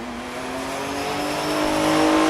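A Mitsubishi 3000 GT drag racing in the left lane at Tulsa Raceway Park during Race Week, its engine a loud sustained roar that builds steadily in pitch and volume as it accelerates, heard close with no voices.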